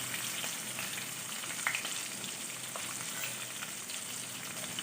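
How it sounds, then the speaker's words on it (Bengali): Large-cut onion and capsicum fry in hot oil left from frying pakoras, producing a continuous soft sizzle with faint crackles, heard alone without talk. "এবার ওই একই তেলে ভেজে নেব বড় বড় করে কেটে রাখা পেঁয়াজ আর ক্যাপসিকাম।"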